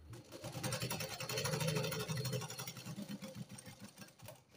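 A sewing machine runs a short line of stitching on the lined cup of a katori blouse, a soft, steady mechanical whirr with a faint rhythmic pulse, quiet and close.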